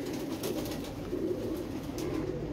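A pigeon of an unusual breed coos softly and low through a steady wash of rain noise outdoors.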